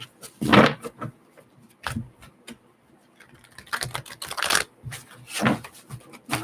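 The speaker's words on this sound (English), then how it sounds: "Let me get a few more shuffles in here." Tarot cards being shuffled and handled close up during a live reading, a string of irregular taps, flicks and riffling bursts with no talking.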